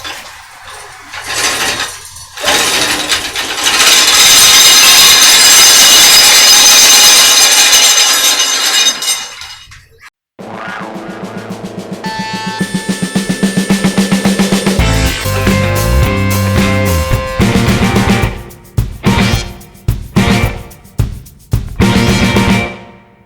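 A chain link GI wire net making machine runs in a workshop, first a loud steady grinding, rasping whir for several seconds, then a pause followed by rhythmic clanking and mechanical knocks with bursts of tonal whine, close and loud throughout.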